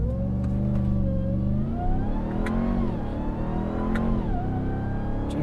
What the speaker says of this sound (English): Launch control, let's try this.